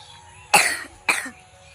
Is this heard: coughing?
yes